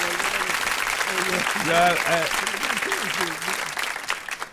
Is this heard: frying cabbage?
no